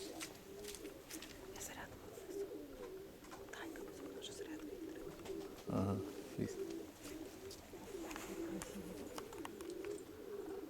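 Pigeons coo in a rural Konotop-area dovecote, a steady low cooing running throughout with someone speaking briefly partway.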